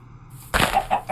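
A Minecraft chicken gives short clucking calls in a video game, a few brief bursts following a quiet start, close and moderately loud.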